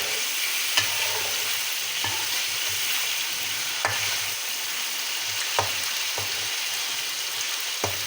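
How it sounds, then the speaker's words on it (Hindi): Chicken frying and sizzling in a pot for a home-style fried chicken dish served with matar pulao, with a steady hiss and occasional stirring scrapes and clinks throughout, close and alone with no talk. "अच्छी तरह से हमारा चिकन ये फ्राई हो जाए।"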